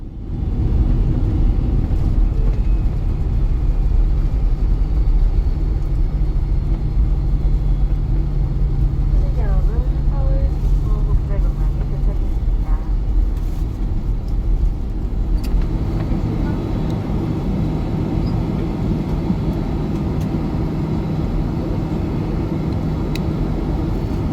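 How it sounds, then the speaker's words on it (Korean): Jet engines of a retiring Asiana Boeing 767 idle after landing, before shutdown, a steady loud low roar and whine that runs through the whole stretch, with a slight shift in tone partway along. "진짜 마지막은 엔진이 정지하는 순간 조금 더 시간이 남아 있습니다."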